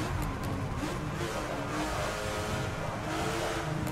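2019 Porsche 911 GT3 RS drifting on the Dubai circuit in Forza Motorsport 7, a steady high-revving engine roar with tire noise, loud and sustained without a break.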